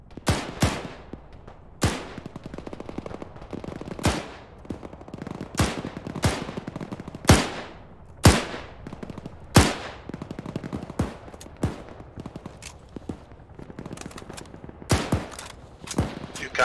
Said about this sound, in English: There's anti-air fire coming out of the valley to the west-southwest distance.